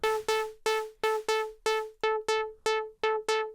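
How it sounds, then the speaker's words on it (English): A synthesizer plays a steady series of short plucked notes through a resonant filter with a noisy, breathy attack from a Juno-106 noise oscillator, each fading quickly, repeating about twelve times in an even rhythm. "I like the sound of modulating sounds like this with the noise oscillator"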